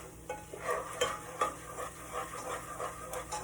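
Flour cooking down in a pan while being stirred steadily for crab cakes, soft rhythmic scraping strokes about every half second over a low sizzle, close and fairly quiet.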